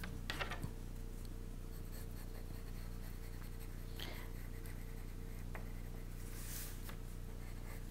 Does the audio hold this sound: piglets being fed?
no